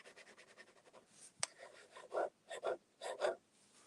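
A fountain pen nib scratches across paper in quick strokes, a run of soft rapid scratches followed by several louder, separate scraping strokes, close and alone.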